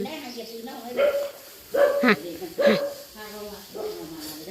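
A dog lets out several short barks and yips at close range, scattered among people talking casually in Thai.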